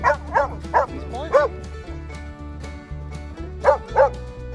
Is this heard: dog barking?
yes